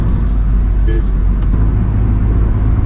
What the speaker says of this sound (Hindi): थोड़ा ग्लास ओपन कर दिया, तो थोड़ा एयर का नॉइज़ आपको आएगा